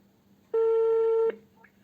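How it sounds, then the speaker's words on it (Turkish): A phone calls a GPS vehicle tracker's line on speakerphone, giving a single steady ringback tone of about three quarters of a second that starts and stops abruptly and is loud and clear over quiet room noise. "Evet kendi telefonumdan e, GPS'teki hattımı arıyorum."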